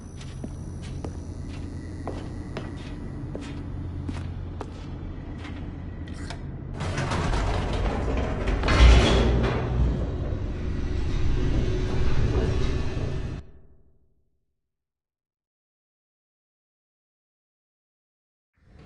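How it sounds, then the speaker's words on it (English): An elevator plummeting downward in The Stanley Parable, a mechanical rumble and creaking that swells to a loud, rushing roar with a heavy thud, then cuts abruptly to silence. "The elevator raced downward, plummeting towards an unknown fate."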